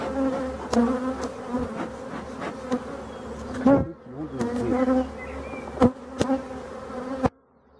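Honeybees buzz steadily around an opened beehive during a hive inspection, a dense, close insect drone with sharp clicks and knocks of frames being moved, easing briefly mid-clip before the hum returns and cutting off abruptly near the end.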